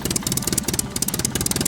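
A tractor loaded with soil pulls away with its engine chugging in a steady, fast mid-pitched rhythm, fairly close and continuous throughout.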